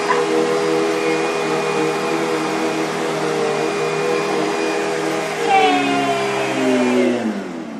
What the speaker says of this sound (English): This is Cian's version of helping mommy vacuum.